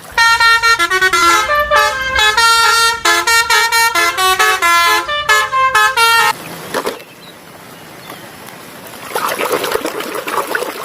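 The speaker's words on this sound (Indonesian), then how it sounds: "mobil bus telolet" A toy bus plays a telolet horn tune, a loud, bright, multi-note melody of quick honking tones for about six seconds. It then gives way to soft trickling water while the toy is being cleaned.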